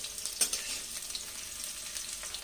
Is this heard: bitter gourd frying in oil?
yes